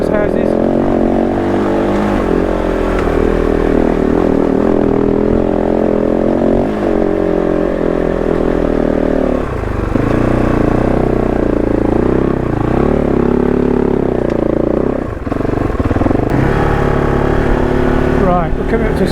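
A KOVE 450 Rally adventure motorcycle ridden on a narrow road, its engine droning loud and steady with wind rumble and small shifts in pitch as it accelerates, heard alone without talk.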